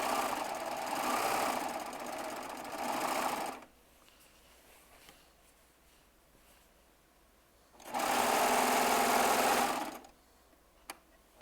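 A Baby Lock serger runs at steady high speed through fabric in two long bursts of dense mechanical whirring, loud and close, separated by a quiet pause, with a small click near the end.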